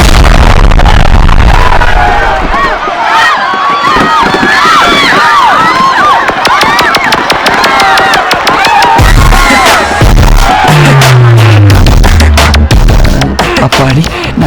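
A loud explosion-like burst of bangs and crackles erupts over a crowd yelling and screaming, with rapid sharp pops in quick succession.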